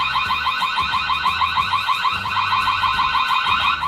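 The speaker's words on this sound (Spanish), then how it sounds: "El sonido de alarma, detección de movimiento." A loud electronic motion-detection alarm from a Reolink E1 security camera beeps in a fast, steady pulsing pattern, piercing and continuous throughout, with no voices.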